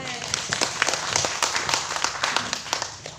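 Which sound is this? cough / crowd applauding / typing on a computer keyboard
crowd applauding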